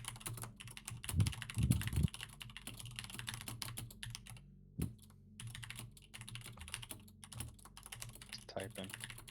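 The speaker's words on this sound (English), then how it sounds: "typing." Rapid, uneven clatter of keys on a computer keyboard, close and fairly quiet, with a short pause midway before the typing resumes.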